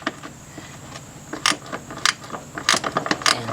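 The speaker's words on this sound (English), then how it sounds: "you're gonna need a speed wrench set to like tightening" A speed wrench tightening a headlight bolt on a Mercedes E350, with light ratcheting clicks and metallic taps growing more frequent toward the end, close and fairly crisp.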